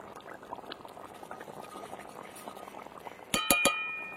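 Cabbage paneer curry simmers with a soft, steady bubbling as ghee and garam masala powder go in, then a few sharp, close metallic clinks ring out near the end.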